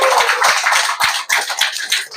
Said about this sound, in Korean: 박수 한번 해주십시오